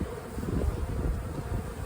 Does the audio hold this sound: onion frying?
no